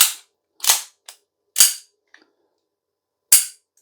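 An ASG 1911 US-C CO2 blowback BB pistol dry firing, giving four sharp, loud snapping cracks of the slide cycling at uneven intervals, with small mechanical clicks between them, and no talking.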